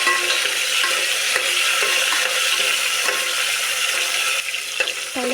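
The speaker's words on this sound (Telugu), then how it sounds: "టమాటాలు ఇలా మగ్గనివ్వాలి ఆయిల్లో బాగా." Tomato pieces fry in oil for a fish curry, giving a steady, close, loud sizzle across the whole stretch, with faint stirring clinks near the end and no voices.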